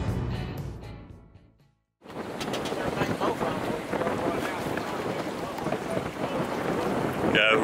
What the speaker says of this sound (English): we're dealing with about a 25 mile an hour wind